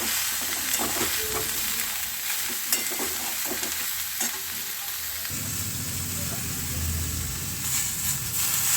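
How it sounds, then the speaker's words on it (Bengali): Sautéing in a pan with slit green chillies, salt, turmeric, Kashmiri chilli powder and cumin powder: a continuous close sizzle under repeated scraping stir strokes, the frying growing a little louder and fuller toward the end. "কাঁচা লঙ্কা চেরা, নুন, হলুদ, কাশ্মীরি লঙ্কার গুঁড়ো, জিরে গুঁড়ো সমস্ত কিছু দিয়ে ভালো করে কষিয়ে নেব"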